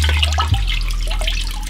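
Tie-dyed fabric being wrung out of a bucket of dye solution gives loud, close splashing and trickling liquid, a brief burst of running water and drips, alone with no talk.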